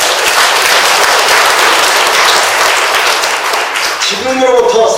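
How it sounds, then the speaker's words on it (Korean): Applause for a pastor-poet at a poetry book launch event, a full room clapping steadily and fairly close for several seconds before a voice begins speaking over the fading claps. "우리 최 목사님 박수 한번 보내주시기 바랍니다"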